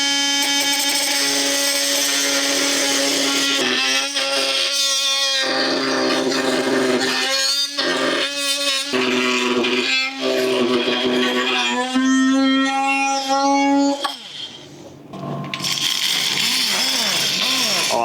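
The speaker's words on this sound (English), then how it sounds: "I'm gonna finally use the multi-tool as an actual cutting tool" A Ryobi oscillating multi-tool cuts through Merbau hardwood boards, giving a loud, steady, buzzing whine with strained bursts as the blade bites, several brief drops, and a sudden stop and change of tone near the end.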